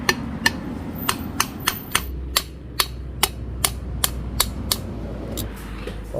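A rubber mallet strikes a chainsaw engine part in a steady series of sharp, evenly spaced knocks, about two per second, with a low mechanical hum underneath.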